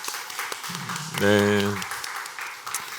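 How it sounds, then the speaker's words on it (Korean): A church congregation claps together at a Wednesday revival service, a steady wash of applause with a brief spoken voice rising over it. "서로에게 한번 격려와 사랑의 박수 한번 수고했다가 할까요?"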